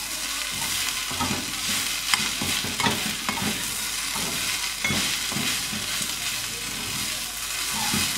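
A spoon stirs and scrapes through thick curry in a hot pan, with soft irregular clinks and scrapes over a faint sizzle, close and steady throughout.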